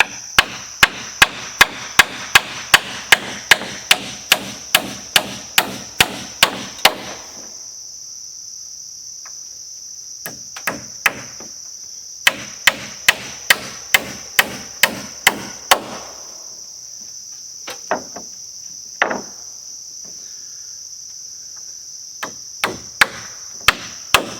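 Galvanized twisty nails get hammered into 1x4 wood boards for a cheap tractor shed, sharp regular blows in several bursts with pauses between, under a steady high insect-like whine.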